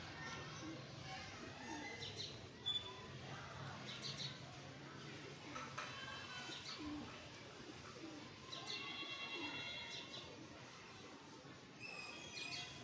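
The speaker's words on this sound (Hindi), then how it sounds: "ये कलदुम्बा नीलदुम्बा टाइप कबूतर है" Pigeons of a blue-tailed fancy breed coo softly in the background amid faint chirps and general outdoor noise, low and distant, with someone talking over them.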